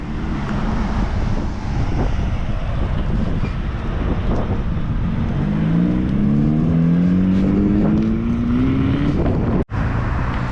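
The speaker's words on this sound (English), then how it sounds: "we have a Slam Daihatsu minivan coming." A slammed Daihatsu minivan drives past at a Japanese classic car show, its engine note rising steadily as it passes close by, with heavy wind buffeting the microphone throughout.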